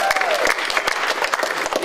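Audience at an antiwar drone conference clapping for the Chicago Antiwar Committee, a short stretch of dense, steady applause from a crowd, loud and close, with faint voices beneath.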